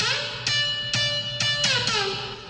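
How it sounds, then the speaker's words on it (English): A bright, high-pitched synth lead plays several sustained notes with sharp attacks, awash in heavy reverb and shimmering overtones. "they are really strange high-pitched synths"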